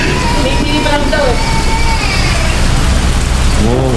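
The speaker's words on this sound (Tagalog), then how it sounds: "Umuulan." Rain falling in Baguio City, a constant hiss under loud conversation and other voices nearby.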